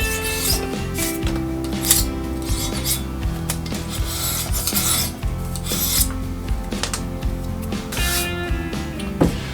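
Steady scraping and rasping, close up, with repeated strokes scraping an old sticker off a scuba tank's hard surface, continuing for several seconds without talk.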